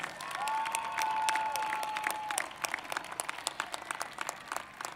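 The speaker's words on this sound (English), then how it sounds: "please give a final round of applause to the recipients of our 2021" Applause from a crowd at a 2021 high school graduation ceremony in honor of award recipients, with dense sustained clapping and a faint whistle-like tone at first, thinning into scattered claps toward the end.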